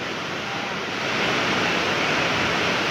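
Floodwater from heavy Konkan rain rushes loudly under an old bridge, a steady broad roar that swells slightly partway through, with no voices.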